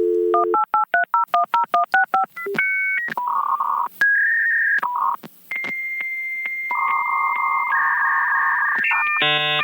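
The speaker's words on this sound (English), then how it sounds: "you had to connect to your computer via a modem with a telephone line" Telephone keypad tones dial out in a quick rhythmic run of paired beeps over a phone line for a dial-up modem connection, followed by longer steady tones and a final burst of higher tones, loud and clear with no voices.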